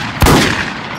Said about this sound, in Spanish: le he pegado dos tiros muy sobradetes